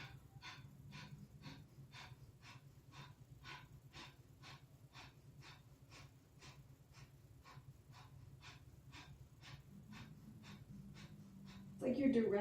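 Breath of fire yoga breathing while standing on the toes, a fast even train of sharp nasal exhalations, about two per second, steady and close, with a louder rustle at the very end.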